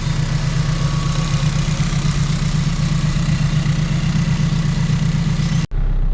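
A Mitsubishi Evolution IV with a 4G63 engine idles loudly and steadily up close, a constant low throb with a strong rumbling pulse, cutting off abruptly near the end.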